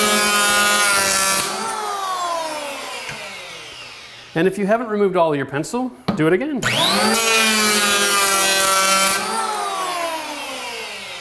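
A power saw runs loud and steady, cutting in one pass along the edge of a door. A short break in the middle carries a spoken instruction, and then the whine of the blade resumes.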